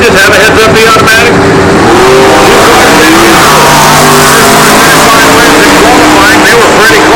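A classic Buick and a GTO drag racing in NHRA stock eliminator, engines roaring loud and sustained with rising revs down the strip, under a track announcer's voice.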